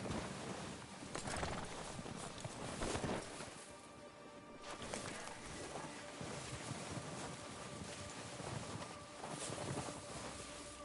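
Horse hooves clip-clop steadily in Red Dead Redemption 2, moderately loud amid a wind-blown outdoor ambience, with an occasional faint snort and no talking.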